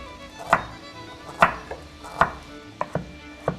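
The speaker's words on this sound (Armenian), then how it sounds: "Մարմանդակի կոթերը կտրատենք։" Knife chopping celery stalks on a cutting board in a TV kitchen, with six or seven sharp, distinct cuts spaced unevenly, close and clear, and no talking.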